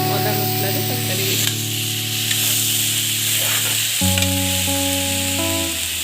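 Curry of potato, brinjal, taro and raw banana with onion, garlic, ginger and spices sizzling and frying in a pan, a steady close hiss with a stir partway through, no talk.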